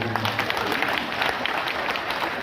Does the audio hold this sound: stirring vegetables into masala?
no